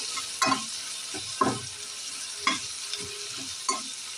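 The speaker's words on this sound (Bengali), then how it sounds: "দেখুন পেঁয়াজটাকে একটু অল্প অল্প ভাজা ভাজা করে নিতে হবে।" Two chopped onions frying in a pan, a steady sizzle broken by several louder stirring scrapes spaced about a second apart, close and without voices.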